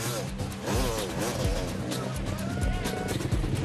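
An enduro motorcycle climbs through a rocky gully called Triple Threat during the Red Bull Last Man Standing 2005 hard enduro race, its engine revving and straining steadily up close while a commentator talks over it.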